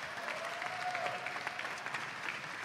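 Crowd at a Super Smash Bros. Melee tournament giving a sustained round of applause, a dense even wash of many hands clapping at moderate distance, with no talk over it.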